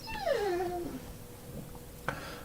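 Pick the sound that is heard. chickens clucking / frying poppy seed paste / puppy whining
puppy whining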